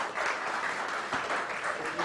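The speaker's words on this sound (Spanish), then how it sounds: "Un fuerte aplauso para ellos." Church congregation applauding during a sermon, a brief, fairly loud burst of mixed clapping with a few distinct sharp claps standing out.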